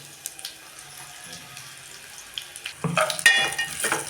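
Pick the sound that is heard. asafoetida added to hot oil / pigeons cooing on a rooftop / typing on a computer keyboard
asafoetida added to hot oil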